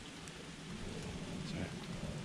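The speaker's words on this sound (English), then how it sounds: "But it's bloody lashing rain" Heavy rain lashes down in Irish woodland, a dense, steady hiss of drops on leaves and ground that swells slightly partway through, with no voices.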